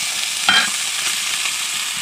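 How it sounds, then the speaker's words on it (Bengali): Fish fries in a pan with a loud, dense, continuous sizzle and one brief metallic clink near the start, with no voices. "মাছগুলো আমি ভাজতে দিয়েছি"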